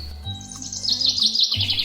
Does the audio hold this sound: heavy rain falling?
no